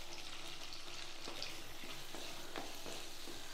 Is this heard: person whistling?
no